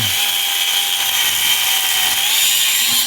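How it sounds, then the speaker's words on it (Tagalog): A grinder cuts metal with a steady, loud, high-pitched whine that holds for about three seconds, close and unbroken, with no talking. "ingat ingat sa grinder at delikado yan ayan inihiwa na ng grinder"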